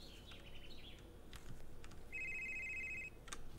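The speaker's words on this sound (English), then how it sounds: "Phone is ringing." A telephone rings in a video game: one short electronic ring over steady game ambience, with no talk.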